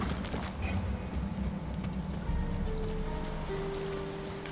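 Horse hooves clatter steadily in Ghost of Tsushima, a continuous rhythmic clip-clop close by with faint ambient game sound and a sustained tone underneath.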